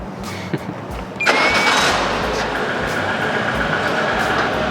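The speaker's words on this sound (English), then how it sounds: "Come on, start the engine." A modified Peugeot 106 engine catches abruptly after a quiet moment with a few faint knocks. It then settles into a steady, loud running drone that continues to the end.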